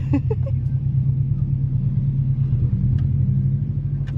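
An old car engine idles with a steady low puffing rumble, loud and continuous, broken by a few faint clicks.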